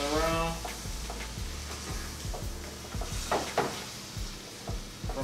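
Fresh chopped basil and sugar are stirred in a hot, sizzling pan, giving a steady frying hiss beneath repeated spoon scrapes and taps against the pan, all close and without talk.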